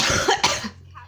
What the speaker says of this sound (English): So about the cough, by the way.